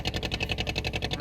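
Small ferry engine running between Punguditivu and Nainativu, a steady rhythmic mid-pitched throb with regular pulsing, close and continuous without voices.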